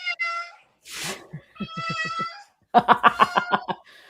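A cat meows close by several times, drawn-out cries followed by a quick series of pulsing chirpy calls, with a short breathy burst of laughter in between.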